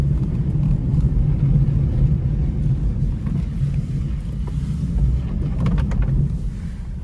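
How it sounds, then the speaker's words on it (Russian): A Hyundai Solaris with worn, noisy wheel hub bearings drives along, giving a steady low droning rumble with road and wind noise, loud and continuous throughout without talk. "Очень сильно у нас шумят ступичные подшипники, поэтому разгоняться сильно быстро не будем."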